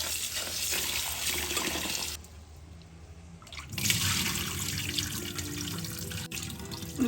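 Basmati rice being washed in water in a home kitchen, with running water from a tap splashing and swishing, a brief lull, then resumed stirring and sloshing of the grains up close.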